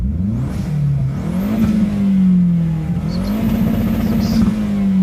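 A car engine with a near-stock exhaust revs up and down twice, a loud, close droning note rising and falling steadily with no talk over it.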